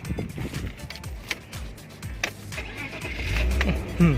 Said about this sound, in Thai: เดี๋ยวจะสตาร์ทเครื่องให้ฟัง